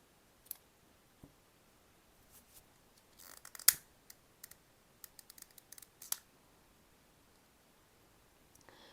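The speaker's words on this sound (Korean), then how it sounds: "한번 잘라 볼게요." Scissors snip through macrame cord on a flat-knot bracelet, giving a handful of quiet, close, irregular clicks and cuts with a small rustle in between.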